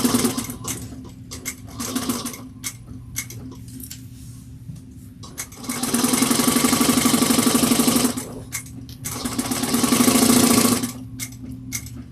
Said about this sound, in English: Make sure you back stitch the beginning and the end.